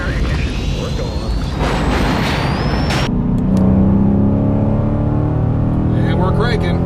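A loud engine pulls hard through a 60-130 mph acceleration run in a Dodge muscle car, either a 5.7 RT, 6.4 Scat Pack or 6.2 Hellcat. It roars steadily from inside the cabin, with a shift-like drop midway and a rising whine afterward.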